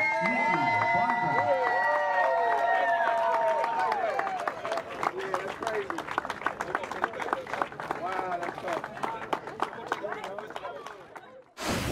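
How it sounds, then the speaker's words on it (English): A large stadium crowd breaks into sustained applause and cheering at a South Carolina Gamecocks jersey retirement ceremony, clapping growing dense and rhythmic as an announcer's amplified voice fades out early on. "join us in a round of applause as we retire the jersey of South Carolina legend, Nicky Barker"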